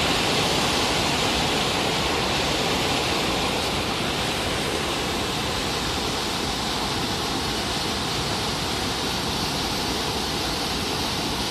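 Heavy monsoon rain in a village keeps water rushing in a dense, unbroken roar, loud and even from start to finish, with no voices.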